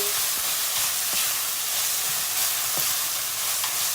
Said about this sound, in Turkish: Salçayı iyice kavuracağız.